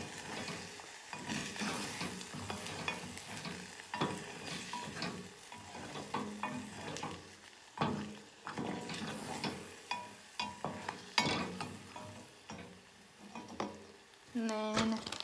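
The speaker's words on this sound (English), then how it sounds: "before I add the cheese, I give them a quick scramble just so the egg doesn't cook over easy" Eggs with garlic powder being scrambled in a pan, a steady sizzle under repeated scraping and stirring strokes of a utensil, with brief clinks against the pan.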